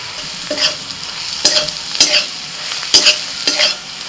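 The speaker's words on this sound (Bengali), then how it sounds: "এবার পেঁয়াজ পেঁয়াজটা একটু ভেজে নিয়ে কাশ্মীর লঙ্কা গুঁড়ো দিয়ে দিচ্ছি দু চামচ" Onions fry in a pan with two spoonfuls of Kashmiri chili powder stirred in, the spoon scraping in four or five bursts over a steady sizzle, close and moderately loud, with no voices.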